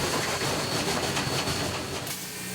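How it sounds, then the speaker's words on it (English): Steam locomotive engine 487 rolls steadily past in Colorado with a dense, continuous rumble and rhythmic clatter of wheels, fairly loud and close throughout. "I just love it. I love steam trains."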